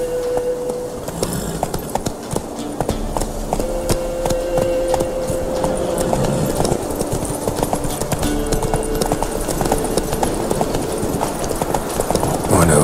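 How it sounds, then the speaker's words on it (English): Horses gallop in The Witcher 3 video game with rapid, continuous hoofbeats while voices call out and a faint tonal hum runs underneath. "Horses!"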